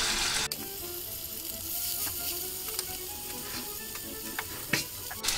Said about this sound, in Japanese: 弱火でね、じっくりじっくりじっくりと焼いていくと、しっとりとして柔らかいラム肉に焼き上がります